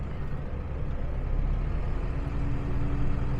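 A 2013 New Holland T6.160 tractor with about 6,500 hours pulls away gently, heard from inside the cab as a steady low diesel drone with a faint whine and no talking.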